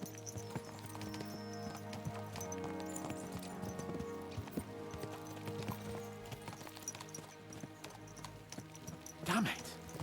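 Galloping horses in Kingdom Come: Deliverance II, their hooves clip-clopping in a steady, quick rhythm throughout, layered under voices and other game sounds, with a brief louder swell near the end.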